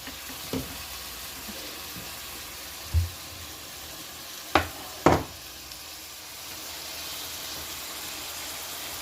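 Onions and mushrooms frying in a pan for spaghetti give a steady soft sizzle, with a few brief knocks of a utensil against the pan scattered through, and no voices.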